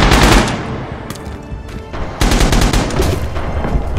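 Gunfire from the World War II shooter game Rising Storm: a loud, dense burst of rapid shots, a brief lull, then another heavy volley of automatic fire close at hand.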